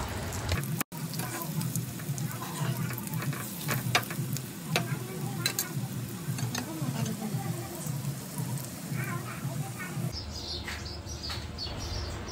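Mutton kheema patties sizzle steadily in a hot pan on their second side, a dense close frying crackle with faint stirring scrapes and a brief dropout near the start.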